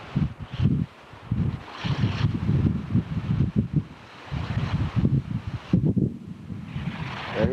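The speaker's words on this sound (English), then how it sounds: "Very windy." Strong wind gusting through an open valley on the way to Mount St. Helens, a loud continuous buffeting roar hitting the microphone in surges, with no talk.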